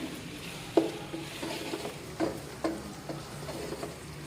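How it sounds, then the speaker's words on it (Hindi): Vegetables for fried rice are stir-fried uncovered on high heat, with a soft sizzle under repeated spatula scrapes and knocks against the pan, coming every half second or so at close range. "इसकी आंच थोड़ी तेज़ ही रखनी है, उस पर भूनना है और ढकना बिल्कुल भी नहीं है"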